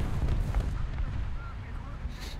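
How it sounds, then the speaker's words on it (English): A Tiger-E tank gun firing in the War Thunder video game, heavy booming rumble dominating the low end with muffled blasts and a distant battlefield din, brief tonal whines overhead. "that's a very nice shooting gun"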